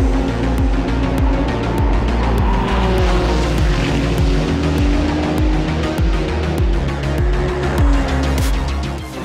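Race cars run at the Nürburgring Nordschleife 24 Hours race. A loud, continuous rush of engines comes from several cars passing close by, one after another, with tire squeal, and no talk.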